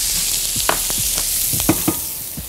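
Onions drop into hot oil in a pan that just held the cooked protein for Salisbury steak, giving a steady close sizzle broken by several sharp scraping stirs, with no talking.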